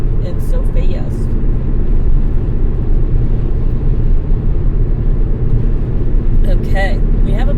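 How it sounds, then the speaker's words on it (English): Steady low road and engine rumble from inside a car moving fast in constant highway traffic on Interstate 270 in Maryland, continuous throughout, with faint voices briefly near the start and end. "there's pretty much cars everywhere here all the time and so fast"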